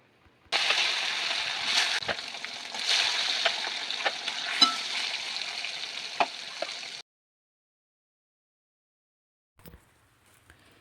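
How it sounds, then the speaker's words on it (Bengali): Rohu fish pieces coated in chili powder fry in hot salted mustard oil: a loud, dense, steady crackling sizzle for about six seconds that cuts off abruptly, followed by silence and a faint knock. "এবার মাছগুলো কড়া করে ভেজে নেব।"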